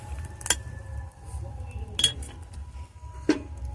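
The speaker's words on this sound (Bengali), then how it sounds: "এখন একটা পাত্র দিয়ে ঢাকা দিয়ে দেবো।" A lid is set over a cooking pot where plantain boils in water, giving three sharp metallic clinks spaced a second or more apart over a low steady rumble.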